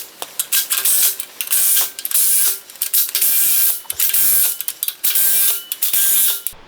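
Ratchet tightening bolts on brand-new shock absorbers under a vehicle, repeated loud rapid clicking bursts separated by brief pauses, close and alone.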